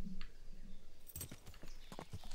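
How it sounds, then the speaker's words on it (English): A horse's hooves clip-clop over ground in the medieval video game Kingdom Come Deliverance: a quiet run of irregular hoof knocks that grows busier toward the end, with a faint background hum. "Horsey."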